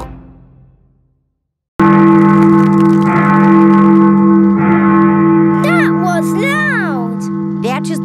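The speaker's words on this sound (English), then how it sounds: "That is the sound of Big Ben telling us the time." Big Ben's clock bell in a cartoon, struck in deep, resonant chimes that sustain and overlap with a long ringing decay. A voice speaks over the later part.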